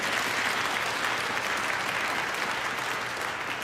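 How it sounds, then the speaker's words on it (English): An audience applauds an organist playing Canada's largest pipe organ at a December concert, dense steady clapping filling the whole stretch, fairly loud and even without a break. "And you should applaud for Ethan."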